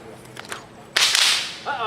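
A bullwhip cracks once, loud and sharp, midway through a demonstration at a Western museum, followed by a sustained wash of crowd noise.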